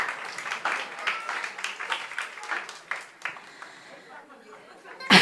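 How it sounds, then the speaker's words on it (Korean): Congregation applauding during a Sunday evening church service, a few seconds of scattered hand claps with some chatter mixed in, fading toward the end. "박수."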